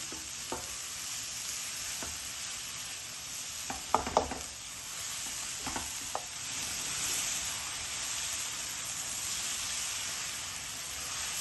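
Mutton and cauliflower keema fries in a pan under a steady hiss and sizzle, with occasional scraping stirs and light utensil knocks scattered through, close and alone without talk.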